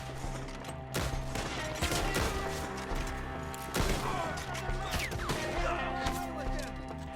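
Gunfire crackles through a Red Dead Redemption 2 shootout in the trees, with repeated sharp shots and heavier bursts near 1 and 4 seconds over a constant backdrop of game music and ambience.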